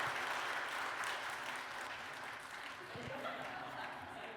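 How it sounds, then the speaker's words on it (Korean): A church congregation at a Sunday service applauds steadily and warmly throughout, a dense even clapping filling the room with a faint murmur beneath. "우리 감동 있는 박수 한번 하도록 하겠습니다"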